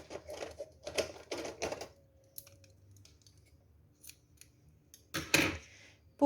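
Scissors snip knitted yarn beside a crochet bag, with a few quick close crisp cuts at the start, a quiet pause, then another sharp snip and rustle of the thick cord near the end.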